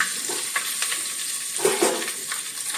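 Bay leaves sizzle and crackle steadily in hot oil in a pan, with a few brighter pops and a soft stir near the middle; close and moderately loud, no voices.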